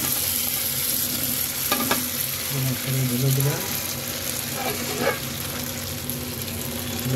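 Meat tipped into a pan of fried rice for biryani and stirred in, a steady sizzle with scraping spoon strokes, close and moderately loud, no talking.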